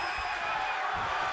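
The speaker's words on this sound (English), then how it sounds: "The sound of this crowd is deafening and he's asking for more." Wrestling crowd in WWE 2K24 game cheering, a sustained wash of arena noise at moderate distance, steady and fairly faint throughout.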